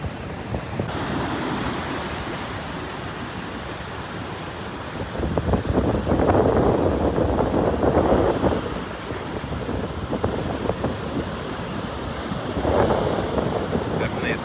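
Rough ocean surf breaks at Newcomb Hollow on Cape Cod, with heavy wind buffeting the microphone and louder surges as waves crash, roaring continuously at close range.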